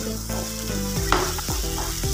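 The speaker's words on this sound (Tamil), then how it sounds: "தக்காளியும் குடமிளகாவும் 1¼ பதத்துக்கு வேகட்டும்." Tomatoes and capsicum sizzle in oil in a pan for capsicum rice, with a steady close frying hiss and several scraping stirs of a spoon against the pan.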